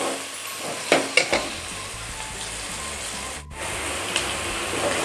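Meat going into a pot with onion and frying for a chicken biryani, a steady loud sizzle with a few clattering stirs near the start, no talking.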